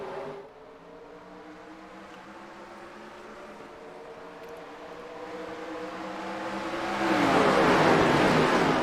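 Race cars at the ILCS Atlanta Motorcraft 110 drone steadily as the green flag drops, the engine roar building into a loud, broad rush near the end.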